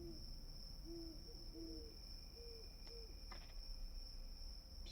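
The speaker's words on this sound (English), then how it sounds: "Gosh, an owl." An owl hoots in the video game Scrutinized: soft, low hoots repeated several times over a steady drone of crickets and insects.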